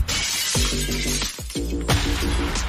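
Glass shatters several times in quick succession, sharp crashing bursts with tinkling fragments trailing after each impact, loud and close.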